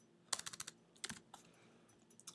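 Fingers type on a computer keyboard in quick bursts of close, crisp keystrokes, a rapid cluster, a pause, then a few more scattered taps.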